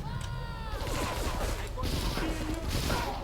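A thrown Molotov cocktail in Grand Theft Auto III smashes and bursts into a crackling, clattering rush of fire among scattered gunfire-like pops, loud and close, with no talk over it.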